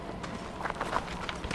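An enemy's rapid running footsteps in the horror video game Outlast 2: quick, close, rhythmic thuds over a dark ambient background, lasting about a second and a half.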